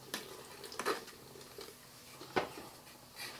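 A small trowel stirs and scrapes rock mortar for an aquascape, giving a few soft, sparse scrapes and taps against a quiet background.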